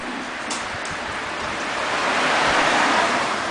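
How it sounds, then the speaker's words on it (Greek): Water pours steadily over the freshly polished, ceramic-coated body of a Mercedes-Benz SLK, a loud, continuous wash that swells slightly toward the end, with no voices. "τώρα ρίχνουμε νερό"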